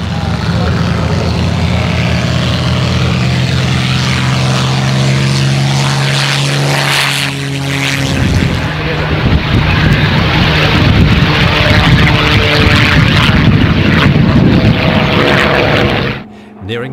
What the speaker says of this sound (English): First away is the Boomerang pilot, who will find and mark the target for the supporting Spitfire and Kittyhawk, who are the next to take off from their base.